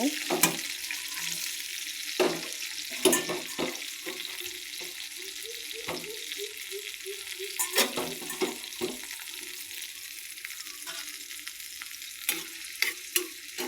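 Chopped onions and black cumin seeds sizzle and fry in a pan, with the spatula scraping and stirring in repeated close strokes throughout and no talking.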